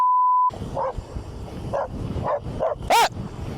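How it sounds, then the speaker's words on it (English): Dogs bark in short separate yaps following a steady test tone, with one high rising yelp near the end, fairly loud and close outdoors where a fast RC car is being driven. "Why is there a lot of dogs coming?"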